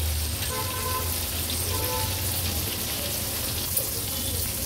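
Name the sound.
karli fish pieces shallow frying in a pan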